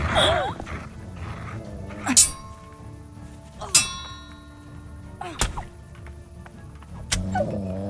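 Dog in the video game Kingdom Come Deliverance barking and whimpering in short bursts, mixed with sharp metallic clangs and ringing game sounds, with someone talking over parts of it.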